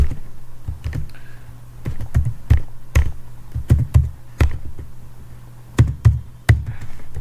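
Keys clack on a computer keyboard as Python code is typed, in irregular taps and short clusters with pauses, close and distinct with no talking.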